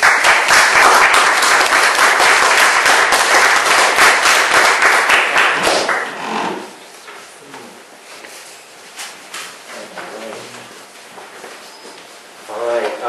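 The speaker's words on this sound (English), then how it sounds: "please welcome Stephen with a big round of applause" An audience gives a big round of applause to welcome a speaker at a talk event, loud dense clapping for about six seconds before it fades to scattered claps and quieter room noise.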